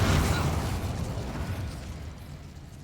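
An Incendio fire spell from the Hogwarts Legacy video game erupts in a loud, broadband whoosh and burst. It opens strongly and then decays into a rumbling roar that lasts for several seconds, and no voice is heard over it.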